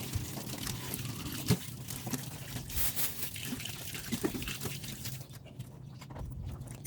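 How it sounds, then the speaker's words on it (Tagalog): Water splashes and trickles steadily through a kitchen strainer, a continuous close pouring sound that thins out toward the end. "Lagay ko na nga yan sa salaan para matining din yung tubig."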